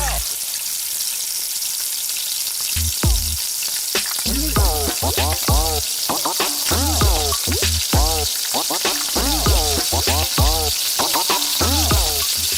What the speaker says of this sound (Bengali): তো আমার পেঁয়াজগুলো ব্রাউন কালার হয়ে এসেছে। এখন এর ভিতরে দিয়ে দিব বাটা মশলা।